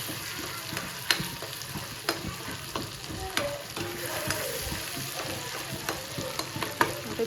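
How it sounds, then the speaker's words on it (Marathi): Goat brain fries in a hot pan in a village kitchen, with a steady sizzle under repeated scraping strokes of a spatula, close and fairly loud, and no talking. "आणि आता त्यात बकऱ्याचं भेजा टाकायचे"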